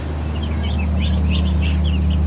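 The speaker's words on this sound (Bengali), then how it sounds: "এই হলো আমার হাঁসের পরিবার।" A family of domestic ducks, a mother with ducklings, calling in a steady run of soft quacks and chatter over a constant low hum, close by and fairly loud.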